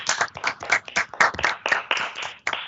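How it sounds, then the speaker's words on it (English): Students in an online English class clapping over their microphones, a few sets of hands producing uneven, close, slightly distorted claps for about three seconds. "Please turn on your microphones and clap for these guys."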